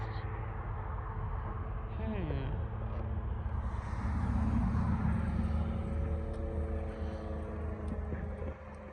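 A helicopter flying overhead with a rough, unhealthy-sounding engine, a steady loud rotor and engine drone that swells slightly as it passes, with a few faint background sounds.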